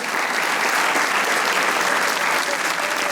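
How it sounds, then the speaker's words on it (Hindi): Sustained studio audience applause for a guest, a Pakistani actor and director, on a comedy talk show, loud and dense throughout with no break. "तालियां बजाइए सर के लिए"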